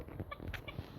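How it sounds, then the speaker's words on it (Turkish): Chickens in a Minecraft-like building game give a few soft, quiet clucks and short chirps scattered over about a second, with a faint hum underneath. "Arkadaşlar sesi geliyor tavuklar."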